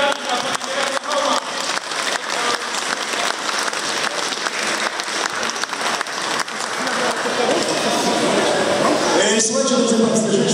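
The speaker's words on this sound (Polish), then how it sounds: "Wielkie brawa dla pana prezydenta i dla pana prezydenta." A crowd in Wejherowa gives a loud, sustained ovation for the city president, dense clapping filling the space close and full, swelling slightly toward the end as a few brief shouts break through.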